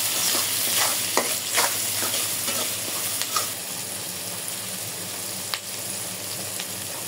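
Chopped onions and small river shrimp frying in a pan with green chillies and salt, a steady sizzle under repeated close scraping and clacking stirs, loud and near, with no talk.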